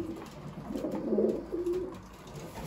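Young racing pigeons coo inside a loft, several low, soft, rolling coos rising and fading over a couple of seconds against a quiet room hum.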